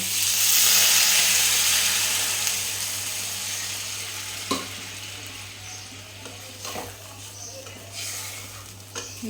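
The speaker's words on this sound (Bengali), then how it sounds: "ঝিঙে আলুটা দিয়ে ভালো করে কষিয়ে নিয়েছি আদা জিরে বাটা দিয়ে এবার দিয়ে দেবো জল" Water poured into a hot pan of fried ridge gourd and potato with ginger-cumin paste sets off a loud hissing sizzle that slowly fades, followed by a few sharp clinks of stirring.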